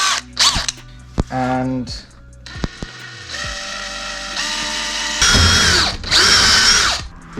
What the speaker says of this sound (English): I've got a wood drill bit just here. Just going to attach that into my drill.